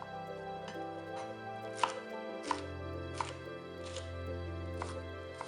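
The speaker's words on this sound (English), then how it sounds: "Cut off the core from the cabbage leaf. Cut into 2 inches rectangles." A knife cuts cabbage leaves into rectangles on a cutting board, producing about six crisp, fairly evenly spaced chops over a soft background hum, fairly close and quiet, with no speech.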